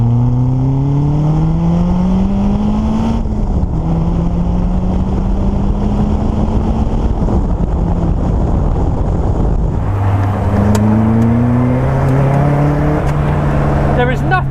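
A Caterham 310R lightweight road-legal sports car's engine drones and revs steadily while driving, dipping briefly around the midpoint and shifting gear before climbing again, loud and continuous with wind noise throughout.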